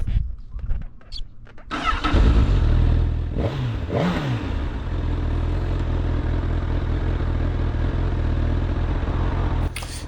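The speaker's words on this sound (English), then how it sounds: "Let's hear the sound of this inline 4." A Honda Hornet 1000 inline-four motorcycle engine starts with a burst, then revs in two quick sharp blips before settling into a steady, loud, close idle that runs to the end.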